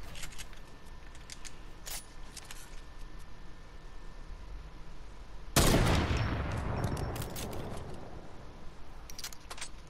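Fortnite gunfire: faint scattered distant shots and clicks, then one loud close blast that decays into a lingering crackling rumble, followed by more sparse distant pops.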